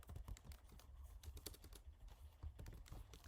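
Computer keyboard typing comes in irregular bursts of quick clicky keystrokes, with short pauses between clusters, close and moderately quiet, with no talking.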